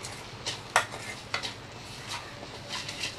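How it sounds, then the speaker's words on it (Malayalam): A masala mixture with salt just added is stirred in a pan, close by, with a spoon or spatula scraping and knocking against the metal. There are a few sharper clinks over a low sizzle and no talking. "എല്ലാം കൂടി നന്നായിട്ടൊന്ന് യോജിപ്പിക്കാം."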